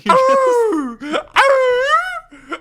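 A man imitates a dog with a few loud, drawn-out vocal barks and a whining howl in close succession, followed by a short yelp at the end.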